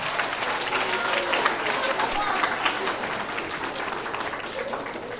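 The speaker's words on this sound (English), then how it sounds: "Give them another round of applause." An audience at a school fourth grade awards ceremony claps in a thick, continuous wash of applause that stays loud and even from start to finish.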